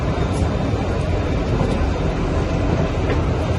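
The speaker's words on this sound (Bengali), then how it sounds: "এই ট্রেনটাই এইমাত্র এলো" A train arriving at Kalka from Shimla makes a loud, continuous rolling rumble, close by and unbroken from start to end, with no one talking over it.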